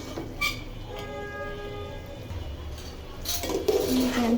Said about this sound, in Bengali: চাল দিয়ে দিচ্ছি, একটু ভালোভাবে নেড়ে নেব।